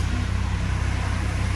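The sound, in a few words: passing car engine, probably a 2-litre TDI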